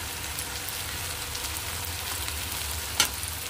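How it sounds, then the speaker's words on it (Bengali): Six or seven dry red chilies fry in hot oil with a constant close crackling sizzle, ending in a sharp pop near the end. "এবার এর মধ্যে আমি দিয়ে দেবো 6-7টা শুকনো লঙ্কা"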